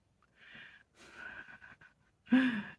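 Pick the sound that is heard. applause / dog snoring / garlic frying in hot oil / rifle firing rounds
dog snoring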